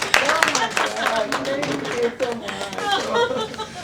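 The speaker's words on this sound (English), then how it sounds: "Oh, a round of applause, please. A round of applause." At an awards event held at Lincoln Center, an audience claps steadily for an honoree, with voices, cheering and chuckles mixed in over the clapping.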